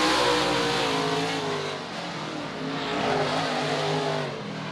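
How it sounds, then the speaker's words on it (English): An open-wheel modified race car engine roars at high revs down the back straightaway at All Tech Raceway, the pitch rising and falling as it accelerates hard, loud and steady with no voices. "He buries the throttle. Drives her down the back straightaway."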